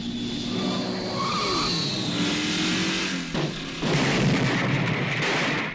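Cars roar and skid in a 1970s Death Race 2000 movie trailer, loud engine drone with tire squeal sweeping down, then a burst of revving and crashing noise.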